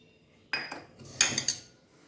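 Spoon scraping and clinking against a metal pressure cooker while cooked urad dal is mixed with salt, a few distinct clanks in close succession, loud and close with no talk.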